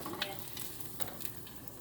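Bánh tôm, Vietnamese fried cakes, frying in hot oil, a steady close crackling sizzle with a few sharper pops and light stirring throughout.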